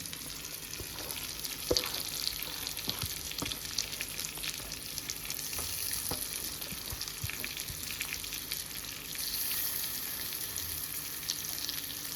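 Spice paste sizzles and crackles steadily in a hot pan while cooking stuffed brinjal curry, a dense continuous frying hiss with occasional pops and stirring scrapes, close up, no talking.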